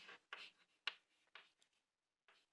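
Pen or marker writing on a board during a maths lecture on Laplace transforms, several short scratchy strokes in quick bursts followed by a pause and one more stroke.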